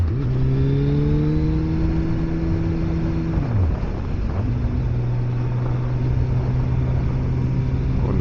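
A Suzuki Hayabusa motorcycle is ridden with its engine droning steadily, then the pitch drops as the rider eases off and shifts before settling into a lower cruising hum under constant wind rush.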